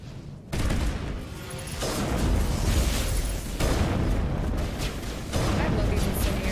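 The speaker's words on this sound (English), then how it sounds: "I love these incendiary rounds." Incendiary rounds fire in Mass Effect Legendary, dense bursts of gunfire with booming impacts arriving in several loud waves after a brief quiet start, over a steady rumbling game backdrop.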